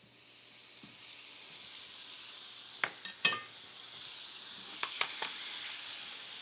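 Butter heating in a hot sauté pan gives a steady soft hiss, with a few sharp crackles and pops in the middle, close and fairly quiet.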